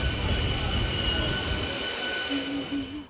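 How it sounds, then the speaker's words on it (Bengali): A train rolls past on the far track at a railway station, with a continuous rumble and rattle of wagons and a thin wheel squeal near the end, loud and steady throughout with no speech. "ও পাশের ট্রেন যাচ্ছে"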